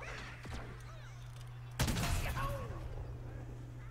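A single sharp gunshot blast from the video game Plants vs Zombies Garden Warfare 2 cracks out midway, loud against an otherwise quiet, faint game background.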